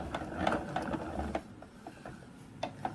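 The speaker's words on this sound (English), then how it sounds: "I know what can make this faster. My yarn winder that I got." A yarn winder winds yarn with a close, fairly loud mechanical whirring and clicking, steady with small irregular ticks, and no talk over it.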